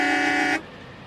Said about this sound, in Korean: 계속 경적을 울려대자